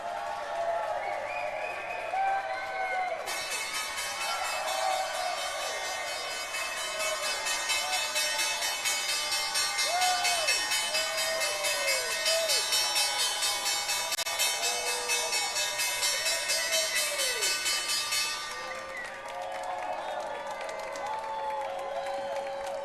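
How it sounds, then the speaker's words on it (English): A crowd on the New York Stock Exchange floor claps and cheers steadily for about fifteen seconds while the closing bell rings loudly and continuously above them. Scattered chatter comes before and after. "And the crowd goes wild. I can only assume they are applauding for me"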